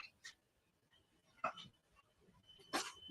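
A dog whimpers in a garage during box sorting, giving a few short, high, strained whines and yips spaced out over three seconds, close and fairly soft.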